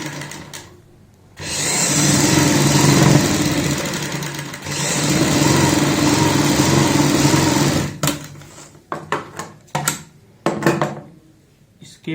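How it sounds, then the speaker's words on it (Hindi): A sewing machine stitches along a kurti neckline, running in two long steady bursts with a brief stop between them, then a string of short stop-start runs and clicks, loud and close, with no talking. "यहाँ पे 1 पैर चौड़ाई वाली सिलाई लगाएंगे।"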